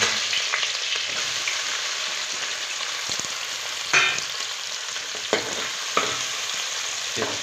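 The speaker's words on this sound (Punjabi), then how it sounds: "ਤੇਲ ਗਰਮ ਹੋ ਚੁੱਕਿਆ ਜੀ ਹੁਣ ਇਹਦੇ 'ਚ ਜੀਰਾ ਪਾਵਾਂਗੇ ਜੀ ਥੋੜਾ ਜਿਹਾ ਤੇ ਕੱਟਿਆ ਹੋਇਆ ਪਿਆਜ਼ ਹਰੀ ਮਿਰਚ ਲਸਣ" Cumin seeds, chopped onion, green chili and garlic frying in hot oil for a cluster bean sabzi, with a loud, continuous sizzle throughout and a few soft knocks from stirring, heard close without any talking.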